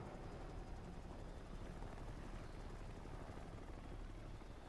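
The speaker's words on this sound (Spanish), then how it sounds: "Bueno, son helicópteros nuevos" Helicopters arriving at Mother Base in the video game Metal Gear Solid V, a low, steady rotor rumble that fills the background evenly and faintly, with no speech.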